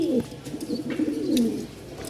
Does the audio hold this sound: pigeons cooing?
yes